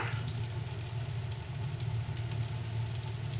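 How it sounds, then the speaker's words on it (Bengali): Spice masala of turmeric, red chilli, coriander and cumin powders with salt sizzles in a pan while sautéed for puti fish amtok, a steady, soft hiss with faint crackles close by. "সমস্ত কিছু দিয়ে ভালো করে মশলাটাকে আমরা কষিয়ে নিচ্ছি"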